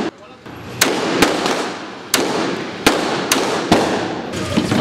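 Repeated sharp gunshot-like cracks, about six loud bursts at irregular intervals, fired point-blank at oneself during a skate outing, each a hard broadband pop over a steady rumble of background noise.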